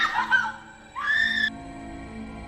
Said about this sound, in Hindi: वह ज़ोर ज़ोर से रोई जा रही थी।